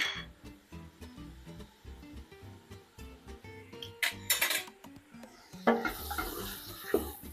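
Vegetables sauté with melting butter in a pan for a bulgur pilaf, a soft sizzle under irregular clinks and scrapes of stirring, growing busier toward the end.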